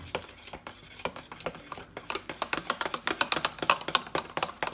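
A spoon working a thickening mixture in a pot for nihari, with rapid, close metallic scraping and clicking against the pot in a steady, accelerating rhythm and no voices.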